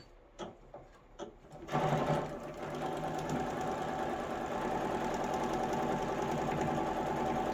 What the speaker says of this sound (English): Feed it into your machine. And then continue on with your quarter-inch seam allowances.